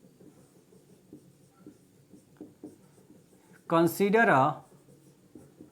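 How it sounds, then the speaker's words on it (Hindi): Notes are written by hand during a physics lecture, a soft, steady scratching of strokes that runs throughout at low level, with a brief burst of a man's speech over it near the end. "अब मैं इसके बारे में, ये फोटो के बारे में थोड़ा सा लिख देता हूं।"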